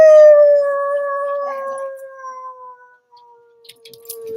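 A wolf's long, sustained howl, clear and fairly close, gliding slowly downward in pitch over several seconds before fading, with faint rustling and a few soft sounds near the end.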